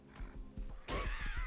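A horse whinnies in a video game, a bright drawn-out neigh rising over rumbling game sounds and thuds, fairly close and moderately loud.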